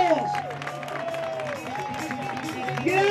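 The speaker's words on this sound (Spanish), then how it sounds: "¡Fuerte aplauso para ellos!" A crowd at a 10,000 m race applauds and cheers the winners, with lively clapping and hubbub blending with voices and an announcer's talk over the top.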